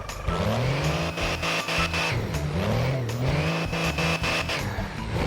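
An Isuzu TFR pickup truck engine revs up and down repeatedly nearby, its pitch rising and falling in loud, rough surges with no talking.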